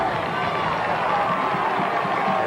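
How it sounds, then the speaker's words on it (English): At a 1999 Hofstra home football playoff game against Illinois State, the home crowd roars in a steady, dense cheer that fills the stadium without letup, a distant sustained wash of voices. "the Hofstra crowd trying to back its defense and turn the Redbirds away"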